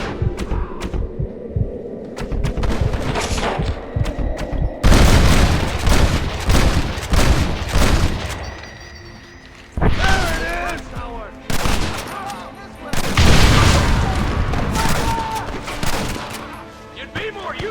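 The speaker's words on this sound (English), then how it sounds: "You man the Gatling gun, Marston!" Rapid gunfire from a mounted Gatling gun in the Red Dead Redemption video game, dense bursts of loud repeated shots with booms and crashes, pausing briefly between volleys, with game voices and effects mixed in.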